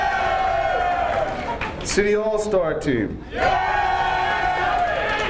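A crowd roars and cheers at a Roman Catholic High School sports hall of fame ceremony. The noise stays loud and continuous, with whoops rising over it while someone speaks into a microphone.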